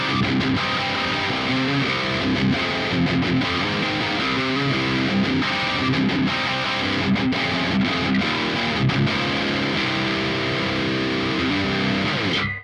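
A distorted electric guitar, played through a Neural amp simulator plugin on a discount guitar, chugs out dense, saturated riffs with short rhythmic stops, loud and continuous with no voices.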